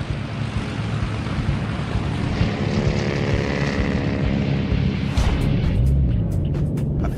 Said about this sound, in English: A wave of bombers from both Enterprise and USS Franklin buzzes in